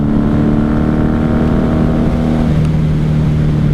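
A 1994 Honda Magna 750 (VF750C) V4 cruiser motorcycle rumbles loudly while riding, a steady deep engine drone with a slight pitch drop near the end, heard up close with no voices.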